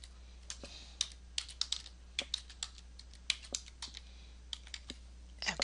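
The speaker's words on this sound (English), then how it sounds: "let's type in our first caption, which is going to be the date of the wedding." A computer keyboard is typed on in quick, irregular clicks to enter a wedding-date caption, close and crisp over a low steady hum, with no voices.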